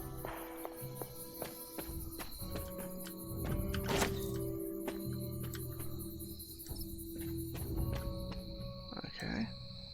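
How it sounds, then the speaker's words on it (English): Night ambience in the video game Midnight Suns: frogs and insects croak and chirp in steady layers, with occasional thuds and faint movement sounds in the background. "Oh, I hear frogs too."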